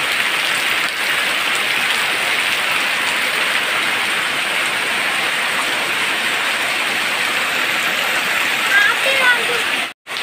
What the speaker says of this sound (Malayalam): എന്താ മഴ മഴ പെയ്തോണ്ട് തകർത്തുകൊണ്ടിരിക്കുകയാണ്